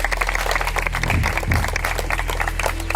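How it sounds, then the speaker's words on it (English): Contestants clap together in a continuous patter of applause, moderately loud and close, with an engine-like low hum underneath. "Give yourselves a round of applause."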